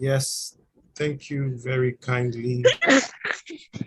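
A short, sharp sneeze at the start, followed by a person speaking in a calm voice.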